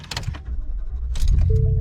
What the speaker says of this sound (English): So let's go ahead and fire up the truck